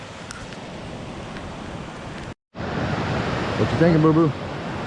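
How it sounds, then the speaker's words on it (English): A brook with small waterfalls in winter along a Washington trail gives a steady broadband rush of flowing water, broken by a brief dropout, while someone speaks over it. "You're following the brook here, and little waterfalls all along the way."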